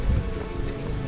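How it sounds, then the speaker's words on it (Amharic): Rain just starting to fall makes a dense, steady hiss of drops on surfaces, close and fairly loud for a brief moment without any voices. "ዝናብም ጀምሯል።"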